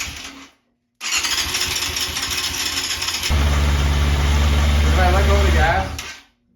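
A revived GP motorcycle engine starts up after a short pause and runs on throttle, a loud close buzzing roar that thickens into a heavier rev before cutting off abruptly.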